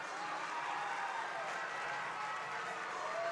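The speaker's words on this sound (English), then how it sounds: "The crowd's cheering." A distant crowd cheers and applauds at a gymnastics meet, a steady wash of noise with no clear peaks, a voice faintly present beneath it.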